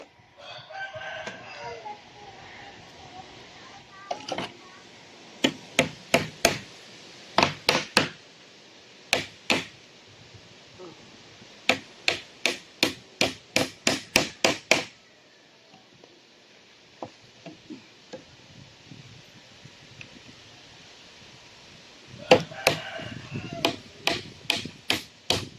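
Sharp hammer blows ring out in quick bursts of several strikes, pausing between rounds, with a rooster crowing in the background.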